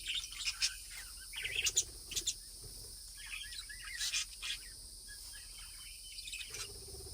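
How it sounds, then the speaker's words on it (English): Small parrots give scattered bright chirps and short tweets at close range, coming in bursts against a faint high insect-like hum with quiet pauses between calls. "now we're in here with these small parrots"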